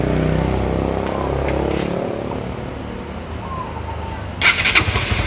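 A Honda CB150R motorcycle engine starts up on its electric starter and runs nearby with a low, steady rumble, then revs in a few quick bursts near the end.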